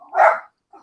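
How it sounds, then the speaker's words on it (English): A 14-pound Jack Russell Chihuahua mix gives one loud, close bark, followed after a short pause by a fainter yip. "my dog, he is a 14-pound Jack Russell Chihuahua who thinks he's a pit bull"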